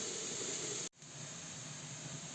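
Four chopped onions fry in oil with a steady soft hiss, cut by a brief break before the sizzle resumes at a slightly lower, even level.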